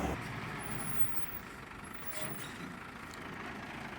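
A truck rolls slowly past at a garage, a quiet, steady low rumble with broadband road noise and a faint hiss throughout, no talking.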